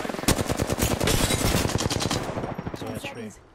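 Rapid automatic gunfire in the Apex Legends video game, loud and continuous bursts for about three seconds before tapering into a few separate shots.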